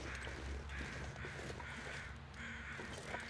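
Crows cawing in a snowy outdoor game world of The Long Dark, several harsh calls repeating in a steady rhythm over a constant wind-like background, moderately distant, with no talk.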